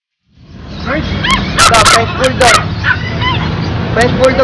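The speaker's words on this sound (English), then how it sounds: "French bulldog natin, dalawang lalaki." Two 3-month-old French bulldog puppies at a pet market in Recto, Manila, yipping and barking up close in quick, excited bursts, with whimpers and voices in the background.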